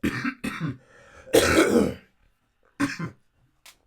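A person clears their throat and coughs in a few close, rough bursts separated by short pauses, with a faint final cough at the end.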